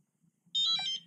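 A Turnigy Evolution radio controller powers on with a short, bright electronic beep that holds for about half a second over a faint low hum.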